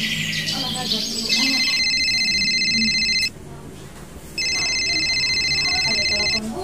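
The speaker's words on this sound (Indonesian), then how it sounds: "Ada telepon bunyi." A telephone rings in a home in bursts of electronic trilling, two long rings separated by a short pause, loud and close, with some background voices.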